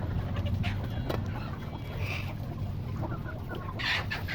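Domestic hens of two or three breeds cluck softly in a backyard coop, scattered calls over a steady low background hum.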